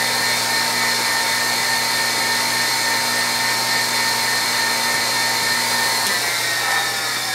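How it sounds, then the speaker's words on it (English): Bench grinder shaping a form tool to grind a one-inch radius on the end of a carriage stop clamp bolt, a steady, loud whine with a constant hum running unbroken throughout, no talking. "we might as well grind the radius for the end of the bolt."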